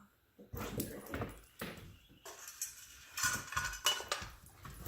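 A puppy dog whimpers and whines in short, high-pitched bursts, with faint clattering and shuffling noises around it.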